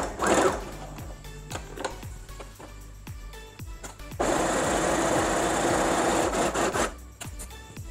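Sewing machine stitching a folded seam on a salwar pant, rapid mechanical clatter that starts and stops, then runs in one longer steady burst before slowing, close and clear with no talking.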